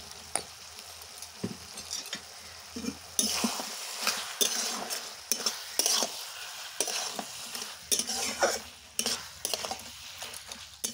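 A metal spatula stirs and scrapes a thick mixture around a frying pan with a little raw mustard oil, giving repeated close scraping and clinking strokes over a soft, steady sizzle. No one speaks.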